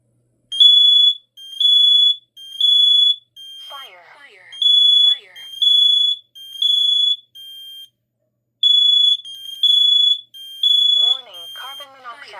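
A Kidde KN-COSM-IBA smoke and carbon monoxide alarm under test sounds loud, piercing high beeps in repeated groups of three, with short pauses and a brief spoken voice breaking in between bursts.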